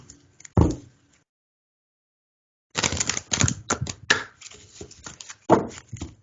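Tarot cards shuffled up close in a single pass, then after a pause of near silence a longer run of quick riffling, tapping and slapping as the deck is worked and squared, with no talking.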